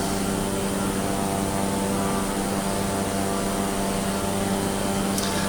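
A light aircraft rolls along an airstrip after landing, its engine and propeller making a steady, loud, unbroken drone.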